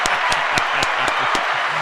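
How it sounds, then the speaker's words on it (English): A few people clap in an evenly spaced rhythm, about seven sharp, close claps over a low background noise during a Cowboys versus Vikings post-game reaction show. "Let's give a round of applause for him."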